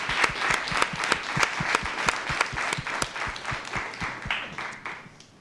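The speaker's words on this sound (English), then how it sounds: "So let's give him a round of applause." Applause from the audience at a school district governing board meeting, a dense, steady patter of many hands clapping at close range throughout, with no talk over it.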